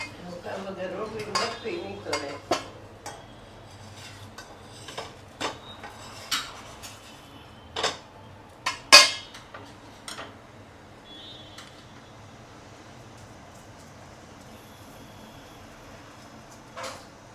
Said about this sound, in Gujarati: આપણે લોઢી તપી ગઈ છે ધીમા ગેસે આપણે શેકી લેશું